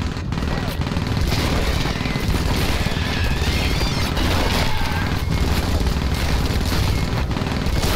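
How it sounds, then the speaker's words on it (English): Auto cannon and smart gun fire together in the 2010 game Aliens vs. Predator, a dense, continuous roar of rapid gunfire and booms that stays loud and unbroken throughout. "Let's fire together with our auto cannon and with our smart gun."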